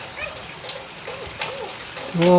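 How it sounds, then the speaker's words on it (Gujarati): Steady rain falling outdoors, heavy enough to fill a pond, gives a continuous watery hiss under a person talking nearby. "વરસાદ ચાલુ છે અત્યારે"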